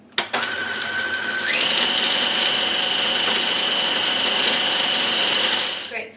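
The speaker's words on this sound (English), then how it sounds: "we're just going to give that a good whiz to chop everything up" A food processor whizzes pine nuts and carrot tops into pesto, starting with a click and running as a steady, whining motor hum that rises in pitch after a second and a half, then stops.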